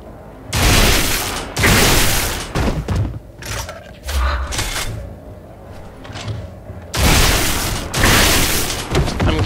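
A grenade explosion in Gears of War, in a co-op fight at a mansion: several loud booming blasts with broad rumbling bursts, the heaviest near the start and another close to the end, mixed with scattered clanks and impacts.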